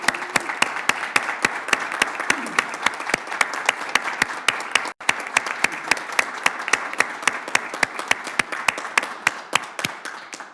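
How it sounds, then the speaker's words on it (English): A round of applause at a township board of commissioners meeting, with sharp, distinct hand claps from a modest group of people, steady and fairly close throughout. "I'd ask everybody to join me in a round of applause and gratitude for everyone involved in that effort."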